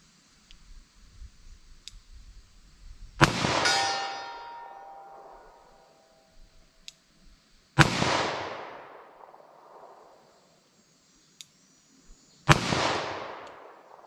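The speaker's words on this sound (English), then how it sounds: "10mm, I got 5 shots of this left. Let's see how this stuff does for me." Three loud 10mm revolver shots with Federal HST ammunition, fired a few seconds apart outdoors, each a sharp crack with a long ringing tail, faint clicks between them and no talk.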